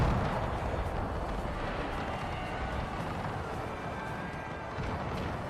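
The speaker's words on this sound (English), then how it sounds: "Oh, they're returning cannon fire." Cannon fire in a Franco-Prussian War video game, heard as a continuous low rumbling battle din of distant booms with gunfire, steady and dense throughout.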